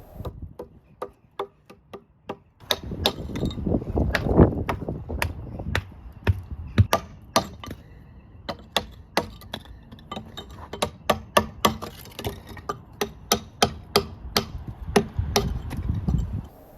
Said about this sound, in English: some of them just needed the old mortar removing from the back